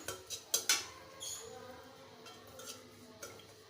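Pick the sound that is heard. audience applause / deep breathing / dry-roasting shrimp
dry-roasting shrimp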